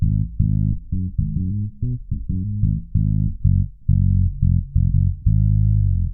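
Bass guitar notes played in a rhythmic line through a Fractal Audio FM9, low-pass filtered below 175 Hz so all treble is removed, leaving only a deep, boomy low end.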